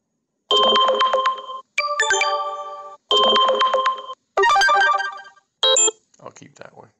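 A TCL 20 Pro 5G phone plays its "Glow" ringtone, several short melodic chime bursts in turn, clear and close, with brief silences between them and no talking.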